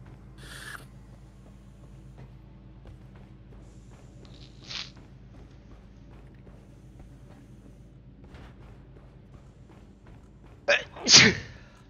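During a two-player GTFO co-op gaming session, a quiet stretch of low hum and small faint noises ends in one loud, close human sneeze near the finish.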